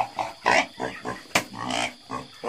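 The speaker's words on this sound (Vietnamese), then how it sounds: "Còn con này là lợn nái" Pigs, including a breeding sow, grunt and snort close by on a small Vietnamese farm raising local pigs without commercial feed, a series of short irregular oinks and snuffles with brief pauses between.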